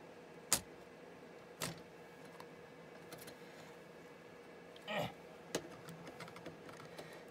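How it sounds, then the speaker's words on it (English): Needle-nose pliers prying the keyboard off a Compaq LTE 5000 laptop, a few sharp plastic clicks and snaps spaced apart over a quiet background with no speech. "We'll just use the needle nose as a prying tool here."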